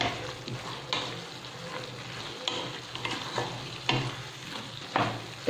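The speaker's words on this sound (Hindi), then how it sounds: "थोड़ा सा मसाले में हम भून लेंगे जो हमारा प्याज है और बटाटा" Onions and potatoes stirred and fried in spices in a pan, a steady soft sizzle with periodic scraping strokes of a spoon, fairly quiet and close, no talking.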